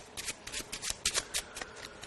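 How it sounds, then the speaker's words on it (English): A deck of playing cards being shuffled, a crisp run of riffling bursts repeating close by, with no talk over it. "shuffle your card again, and then we try something else."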